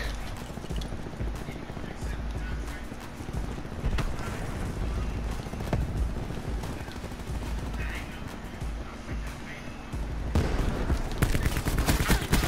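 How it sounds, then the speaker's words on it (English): Rapid automatic gunfire in the video game Black Ops 4 rattles on continuously in dense bursts, growing louder near the end, while a person talks over the shooting. "that gun shoots fucking quick"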